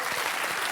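Brief burst of audience applause in a studio, a dense patter of many hands clapping at moderate volume.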